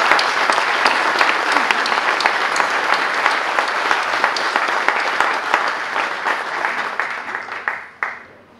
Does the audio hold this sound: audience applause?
yes